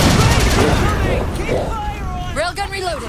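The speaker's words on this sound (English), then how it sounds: "Target those phantoms for the railgun to shoot down." Heavy gunfire and blasts in the Halo 4 campaign as a railgun fires at Phantom dropships, loud bursting volleys under overlapping voices.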